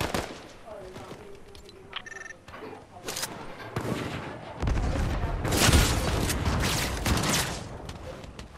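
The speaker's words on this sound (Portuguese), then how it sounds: "Atirando no seu NPC." Gunshots in a Fortnite match crackle through busy game audio, starting as scattered loud cracks and building into a denser volley of shots near the end, with faint ambient game noise underneath.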